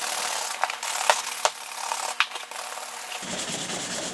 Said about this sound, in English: we're just buffing out the conditioner with this brush